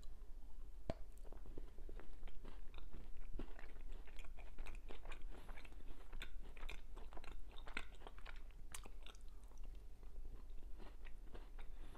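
A white chocolate strawberry cheesecake chocolate bar is bitten and chewed up close, giving repeated crisp snaps and wet crunching in an irregular rhythm against a quiet background.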